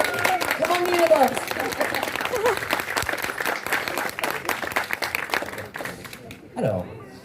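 Convention audience applauding during a talk with actress Natalia Tena, a dense wash of clapping that holds steady for several seconds and then thins out, with voices audible in the crowd.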